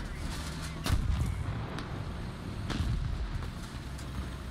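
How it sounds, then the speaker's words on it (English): A missile launched at the player's tank in War Thunder arrives as a sudden loud blast near one second, with another burst near three seconds, above a constant rumble of engine and battle noise. "For some reason, he decided to fire a missile at me."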